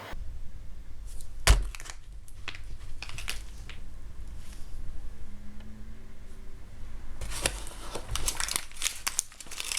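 Cardboard boxes are crushed and torn apart close by, with sharp cracks, crinkling and ripping in irregular bursts and a dense burst of tearing near the end.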